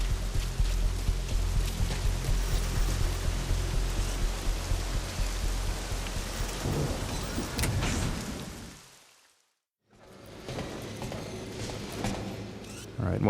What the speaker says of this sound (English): Let's head downstairs and see if we can head indoors to escape the rain.